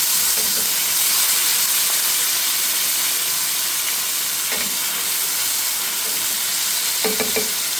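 Medium tomato cooking in a pan of kadhi pakora base, steady close sizzling and hissing throughout, with a few stirring scrapes near the middle and end.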